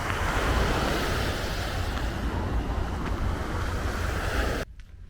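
Sea waves wash steadily along a coastal walking path, a dense, loud roar mixed with wind buffeting the microphone that cuts off abruptly near the end; no one speaks.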